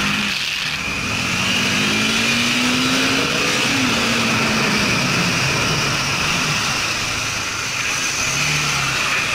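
A Bajaj Dominar 400 motorcycle is ridden with its engine droning steadily and loud close by, pitch rising and falling slightly as it pulls along, with continuous wind rush over it.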